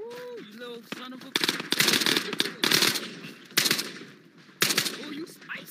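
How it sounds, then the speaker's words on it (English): Automatic gunfire in the VR shooter Ghosts of Tabor comes in several loud rapid bursts, some close and harsh, with a voice talking briefly at the start and between shots. "We're taking fire."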